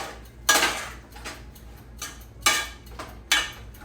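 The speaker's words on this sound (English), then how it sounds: "I'm going to kind of give it all a good stir." A utensil stirs a pot of food, making repeated scraping clinks against the pot at a slow, regular pace over a low background hiss.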